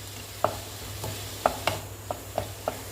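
Methi pappu, a fenugreek and lentil mixture, frying in a pan on a low steady sizzle, with about six sharp scrapes and taps of a spoon stirring at uneven intervals, close and alone.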